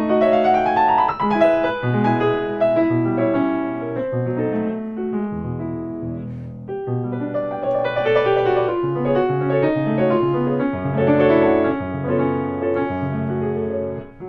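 A piano plays a Grieg piece at sight, a steady flow of chordal phrases with chromatic movement, heard clearly and alone without any talking.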